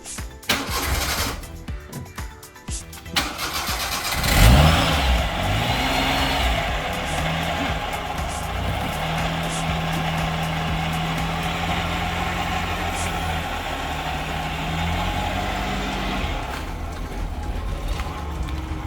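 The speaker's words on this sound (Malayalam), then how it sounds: "ഇതാണ് അവളുടെ വണ്ടി കേട്ടോ അവളുടെ സാരഥിയാണിത്" A car engine cranks and catches, with a loud rough start after some rustling, then settles into a steady, close idle that carries on to the end.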